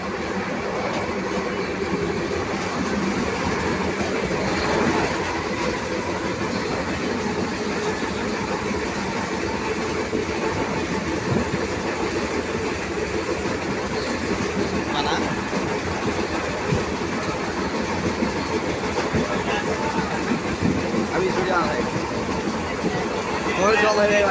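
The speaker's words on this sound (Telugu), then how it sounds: "Khammam to Madhira train return వెళ్తున్నాం" A passenger train runs from Khammam to Madhira, heard from on board as a continuous rumble and rattle of the carriage, with people talking nearby throughout.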